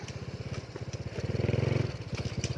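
A motorcycle with a freshly replaced racing clutch revs for a wheelie, its engine firing in a fast, steady pulse that swells louder in the middle and then eases back, close and alone.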